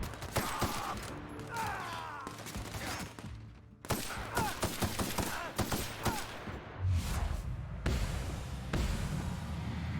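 Gunshots fired one at a time in The Outer Worlds at Edgewater, sharp separate cracks spaced through the fight amid game sound effects.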